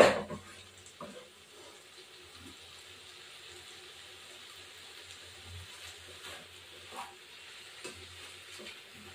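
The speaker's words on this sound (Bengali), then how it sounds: "তারপর মশলাটা কষাবো" Masala sautéed with banana flower and prawns in a pan makes a soft, quiet sizzle with occasional stirring clinks and scrapes, faint throughout after a brief louder start.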